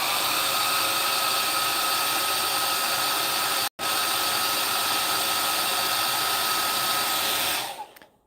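A hair dryer blows steadily on freshly painted miniatures in a cold hobby painting area, a loud constant whoosh with a brief cutout near the middle before it runs on and switches off at the end.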